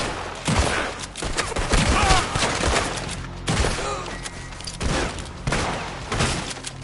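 Red Dead Redemption 2 shootout: a loud, chaotic fusillade of repeated gunshots at close to middle range, irregular cracks and thuds rolling through throughout, with faint voices mixed in.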